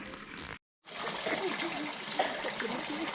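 Water pours from the third spout of the Cikahuripan sacred spring at Dayeuh Luhur in Sumedang, making a continuous splashing rush that breaks off briefly. Voices murmur faintly underneath.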